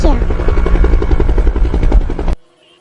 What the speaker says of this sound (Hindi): क्या तुम्हें हेलीकॉप्टर की आवाज आई?